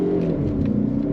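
A 2024 Mazda CX-30 Turbo accelerates on throttle, a continuous moderately loud engine hum and road rumble heard from inside the car, without talk.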